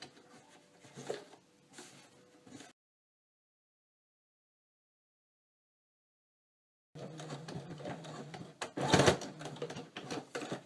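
A sewing machine stitching a fabric cornhole bag, running in two short bursts of rapid mechanical whirring separated by a few seconds of silence, fairly quiet and without talk.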